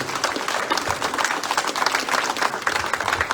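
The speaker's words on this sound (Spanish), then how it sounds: "Denle un aplauso grande al Señor en esta mañana" A church congregation claps steadily and vigorously throughout a morning service, a thick wash of many overlapping hand claps holding at an even, lively level.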